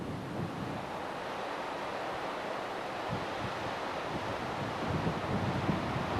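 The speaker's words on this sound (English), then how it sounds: "The wind is kind of blowing uphill" Steady wind rushes and buffets against the microphone, blowing uphill in Alaska, a constant broadband roar with occasional gusts growing stronger toward the end.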